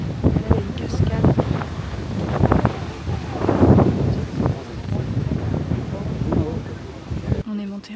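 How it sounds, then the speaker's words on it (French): Strong gusty wind buffets an outdoor microphone on a mountain viewpoint near a castle in the German–Austrian Alps, with rumbling low blasts throughout and speech audible among the gusts before it cuts off near the end. "Il y a énormément de vent"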